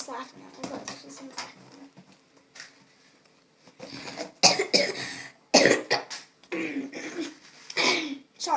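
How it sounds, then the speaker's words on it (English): Several sharp coughs from one person break up quiet indoor background sounds, including clatter and some voices, with the loudest bursts coming in the second half. "Sorry, I have a cough."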